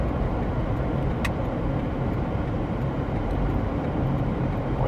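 Truck engine in a driving video game, steady broadband roar throughout as the vehicle accelerates, with a brief high tick partway through and no talk.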